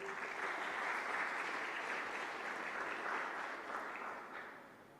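An audience at a school coding and robotics talk applauds a teacher, a soft, sustained wash of clapping that holds steady and then tapers off near the end.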